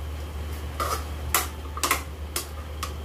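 Chicken tinola soup stirred in a cooking pot, with a utensil tapping and scraping the metal in a loose rhythm of about half a dozen sharp clinks over a low steady hum.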